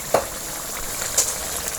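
Eel pieces stir-frying with red curry paste in a hot wok give a soft, steady sizzle with a couple of brief scraping clicks from stirring, close and alone.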